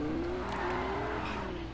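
Lamborghini engine in a video game revving in a steady, moderately loud drone with a slowly rising and falling pitch.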